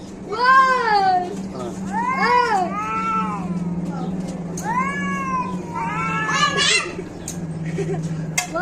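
Cats fight close by, trading long, wavering yowls and caterwauls that rise and fall in several drawn-out cries, loud against a low steady hum, with a person speaking now and then.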